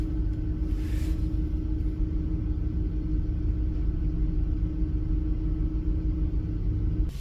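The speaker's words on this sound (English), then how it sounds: "reinsert the key and start the vehicle" A Chevy car engine idles with a steady low rumble and faint hum after starting, continuous and close throughout, with no voices.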